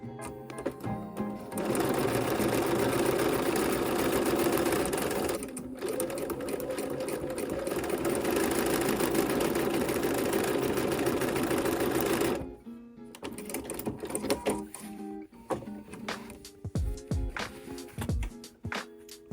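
Sewing machine stitching directional fabric, a loud steady mechanical whir running for about twelve seconds with one short pause, then stopping and giving way to quieter handling clicks and rustles.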